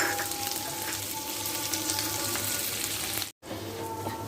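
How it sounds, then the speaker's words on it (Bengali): Chopped almonds and raisins frying in ghee for nawabi semai give a steady, close sizzling crackle that runs throughout, with a brief dropout near the end. "বাদাম আর কিশমিশটাকে খুব ভালো করে ভেজে নিয়েছি।"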